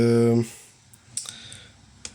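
An SBM-20 Geiger-Müller tube sits near a DP-5 dosimeter's radiation source and gives sparse, irregular sharp clicks against a quiet background, just after a short tonal sound at the very start.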